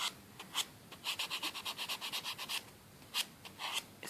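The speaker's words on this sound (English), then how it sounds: "If you use your buffing block," A buffing block rubs over dull, scratched acrylic nails in quick repeated strokes, a soft close rasping that comes in bursts with short pauses between.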